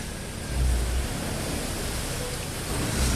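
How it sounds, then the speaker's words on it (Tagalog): Strong floodwater surges across a flooded road during monsoon rains, a steady broadband rush of churning water with brief louder swells, with no voices. "Malakas na ng tubig. Alon-alon."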